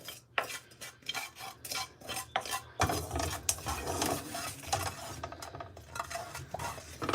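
Pan of food lifted off and moved over a gas flame while cooking, giving close, continuous scraping, stirring and clattering of metal and utensils with irregular bursts, no talking.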